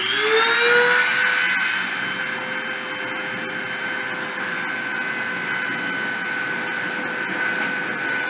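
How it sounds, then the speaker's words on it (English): A paste-deposition printer's spindle spins up and runs with a steady high whine and a whirring motor drone, holding constant and close throughout with no talking. "I'm going to turn the spindle on and start the deposition"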